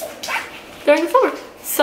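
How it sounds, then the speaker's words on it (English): Dogs yip and whimper in the background of an indoor room, a few short high cries heard under a woman's close speech. "Don't mind my dogs in the back."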